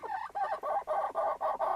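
A broody hen sitting on an egg gives a run of about seven rhythmic, grumbling clucks in quick succession, close and fairly soft, with no one speaking.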